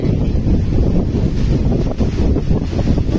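Steady, loud cold wind buffeting the microphone in a village with a low rumbling roar and gusty surges throughout, no voices.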